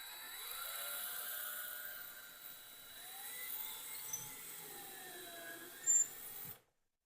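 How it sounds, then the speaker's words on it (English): A power drill whines steadily, its pitch rising and falling as it bores through a food truck trailer floor, then cuts off abruptly to silence. "I got to drill a hole through the floor of my trailer"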